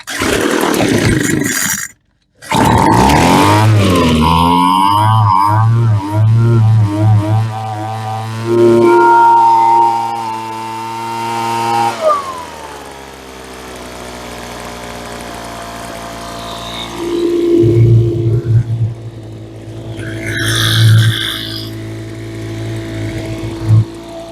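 The small two-stroke engine of a salvaged Hitachi chainsaw or Troy-Bilt blower fires up loudly and close, revving in bursts, dropping to a sputtering idle, then revving again.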